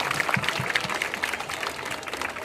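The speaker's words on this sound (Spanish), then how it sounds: "a quien les pido un fuerte aplauso para ellas" Municipal event audience applauding in a hall, a steady wash of many hands clapping at moderate volume throughout, with no voices over it.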